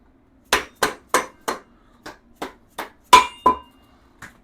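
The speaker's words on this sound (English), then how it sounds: "you can go ahead and shove your axle in" An axle is worked into the front wheel of a Honda Shadow Sabre 1100 motorcycle with about ten sharp, close metallic knocks, steady at first and then spaced more irregularly, with no talking.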